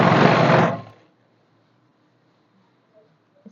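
A sewing machine runs a straight stitch on trousers in one short, loud whirring burst of under a second, then cuts off into near silence broken only by faint small sounds.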